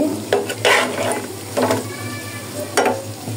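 Chocolate donuts frying in hot oil over medium heat, a continuous close sizzle punctuated by several loud bursts as the donuts are turned and stirred, no one speaking.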